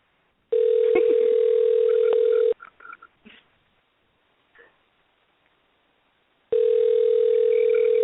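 A telephone call rings out through the handset as a steady electronic tone, repeating twice with a long gap between, broken by a few faint clicks and rustles in the quiet pause.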